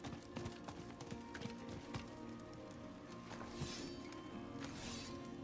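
Horse hooves in Diablo 4 clip-clop at a steady trotting rhythm over a continuous background, with a couple of louder rustling bursts.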